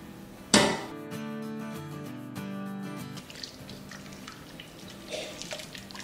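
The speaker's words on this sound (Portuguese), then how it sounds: "Vou colocar mais 2 xícaras de água" Water is poured into a pot of bean soup with vegetables and soup pasta: a sharp splash opens into a steady, close pour that lasts a few seconds, then settles into quieter kitchen sounds.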